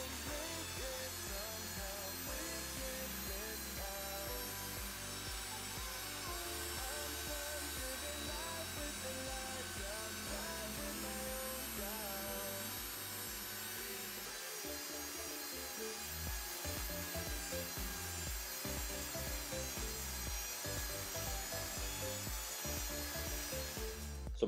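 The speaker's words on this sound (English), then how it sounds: "I'm gonna sand all this down now" A power sander working over a Bondo-filled tabletop for a large epoxy dining table, a steady continuous grinding rub running the whole time with no talk and a few brief dips in the low drone.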